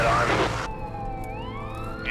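An ambulance siren on a highway near Hope, preceded by a brief burst of loud noise, then a wailing tone that holds and rises, fairly close and prominent.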